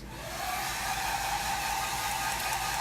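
A hair dryer blows on a fuzzy towel, a steady loud whirring hiss that rises at the start and then holds evenly, with no voices over it.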